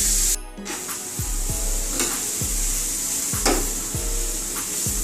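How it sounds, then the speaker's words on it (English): Onions sizzle and caramelize in a soup pot for cabbage soup, a steady frying hiss with a spoon stirring and scraping the pot bottom in regular strokes about once a second, close and fairly loud. "We want the onions to caramelize. We want them to brown"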